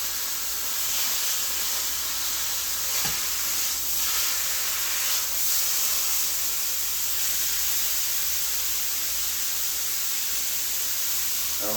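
Pork tenderloin searing in a hot pan gives a steady, loud sizzling hiss that runs without a break, with a few faint clinks or knocks and no voices.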